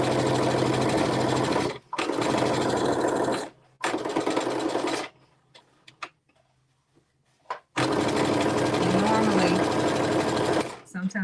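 A sewing machine runs close by stitching a linen seam in several loud, steady bursts, with a short pause and then a longer quiet gap before a final long run.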